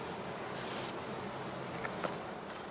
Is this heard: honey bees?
yes